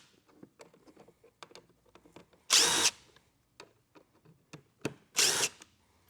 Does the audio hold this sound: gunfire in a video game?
no